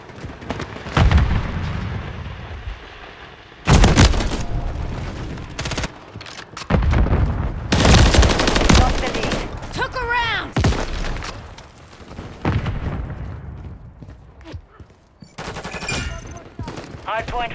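Heavy gunfire in Call of Duty: Modern Warfare III multiplayer: loud bursts of automatic fire and blasts in irregular clusters, mixed with game radio voice callouts.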